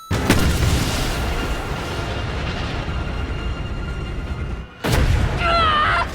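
A rocket launcher explosion in Resident Evil 3 remake, a loud close boom rolling into a long rumbling blast, a brief drop to silence, then another heavy burst with debris and ringing tones.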